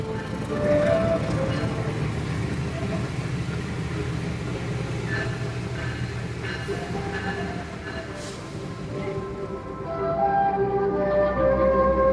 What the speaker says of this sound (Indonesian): Inilah kondisi dari stasiun Cepu.